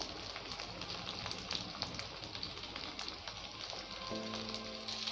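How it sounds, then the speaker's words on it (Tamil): Carrot, beans and capsicum fry in a pan with a steady, soft sizzling crackle throughout, close and even, with no talk. "இப்போ இதை ஒரு வாட்டி நல்லா ஃப்ரை பண்ணிக்கோங்க"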